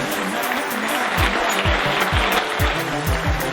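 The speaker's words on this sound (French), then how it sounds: "on les applaudit comme il se doit" Wedding guests applaud the couple's entrance into a reception hall, a steady, dense wash of clapping that fills the room, with music and rhythmic thumps running underneath.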